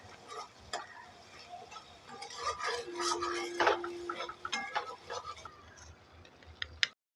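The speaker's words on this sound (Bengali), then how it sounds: "মশলাটাকে ভালো করে কষাতে হবে যতক্ষণ না মশলা থেকে তেল ছেড়ে দিচ্ছে।" Spice masala for chola chaat frying in a pan, busy irregular clinks and scrapes of a spoon stirring, fairly quiet and close, with a faint sizzle underneath and no clear speech.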